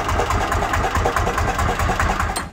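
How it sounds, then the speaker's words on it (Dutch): A sailing boat's engine runs steadily during maintenance, holding a close, even idle with a regular throbbing pulse before cutting off abruptly at the end. "De motor krijgt een onderhoudsbeurt."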